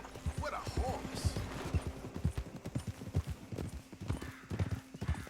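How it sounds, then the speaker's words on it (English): Hooves of a galloping horse in Red Dead Redemption 2 drum in a quick, steady clip-clop for several seconds. A brief whinny rises near the start and low voices talk underneath. "What a horse!"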